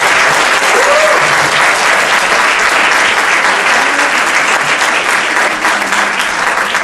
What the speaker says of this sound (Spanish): les pediría un aplauso para poder empezar